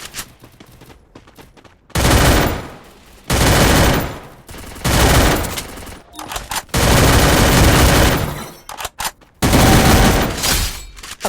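Bursts of rapid gunfire from a video game erupt in long, dense volleys separated by brief quieter gaps, loud and harsh like a heated firefight.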